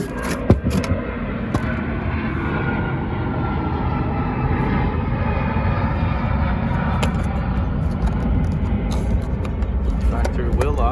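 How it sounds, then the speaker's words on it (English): An airplane passes overhead as a broad, steady roar that fills the background, loud and continuous, with a voice speaking over it. "let me wait till the car passes, or the airplane passes."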